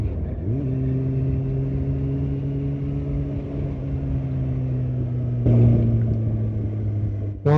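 A 2015 Kawasaki Ninja ZX-6R 636 motorcycle engine drones loud and steady on a test drive, holding a high rev with a slight pitch drift before a sharp rise near the end, with no talking.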